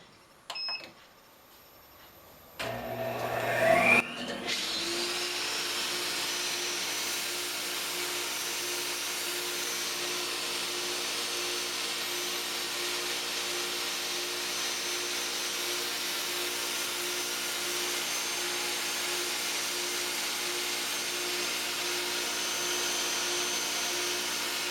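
A wood lathe spins up with a short beep and a mechanical clunk, then settles into a steady, loud whirring drone while turning a wooden pepper mill in a workshop.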